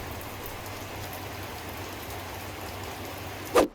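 Rain falls steadily on a backyard deck build site, a soft continuous wash of drops. A single brief knock sounds close by near the end, with no voices.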